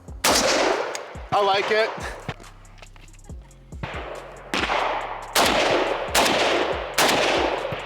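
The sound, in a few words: Krebs Custom M23 AK rifle being fired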